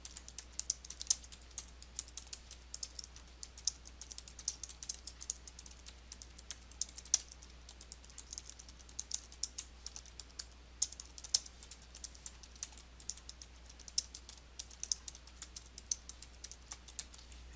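Steady typing on a computer keyboard while entering paragraph text in Photoshop Elements, a quiet continuous stream of light key clicks with no voices.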